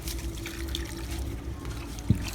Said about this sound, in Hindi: तो इनको बेचारों को जल्दी जल्दी पानी देते हैं।